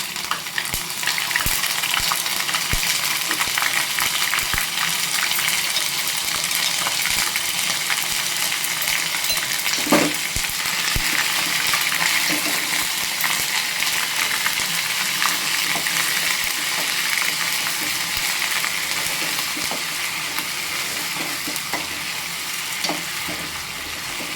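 Ginger paste frying in a pan, a steady, dense, loud sizzle that holds through the whole stretch, with faint stirring ticks and a single sharper clink partway through.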